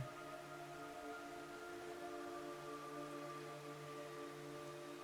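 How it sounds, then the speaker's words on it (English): Steady rain falls in the Metal Gear Solid 3: Snake Eater video game, a constant wash of drops under sustained tonal game music with no speech. "It's raining blood."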